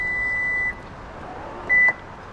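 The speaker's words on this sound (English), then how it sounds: "push and hold until you hear a series of 4 beeps" The power back door of a Lexus gives two clear, steady electronic beeps, each held briefly with a short pause between, over a low hum.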